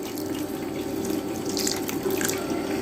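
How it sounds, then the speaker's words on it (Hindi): Cold tap water runs steadily over drained boiled vermicelli in a sink, a constant close splashing hiss with no talk, lasting the whole few seconds. "जैसे ही आप इनका पानी ड्रेन करें तो ऊपर से आपने ठंडा पानी डालना है"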